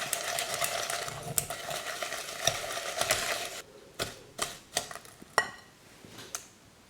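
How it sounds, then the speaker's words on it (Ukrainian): Eggs and cake batter whisked by hand in a bowl, a rapid metallic clatter of the whisk that gives way to separate knocking taps against the bowl, close and fairly quiet, with no talking. "Все збивається вручну."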